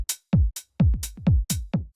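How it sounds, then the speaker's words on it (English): Tech house drum loop with a bright open hi-hat sizzling in the offbeats against punchy low kicks, a tight repeating pattern, close and dry with no voices. "And next up is this open hi-hat"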